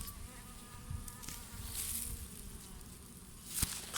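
Honeybees buzz steadily around a hive after pesticide poisoning, a close, continuous insect drone with a few nearer passes and a brief tap, heard alone without talk.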